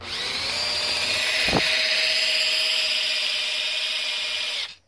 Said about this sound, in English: and I turn the drill on.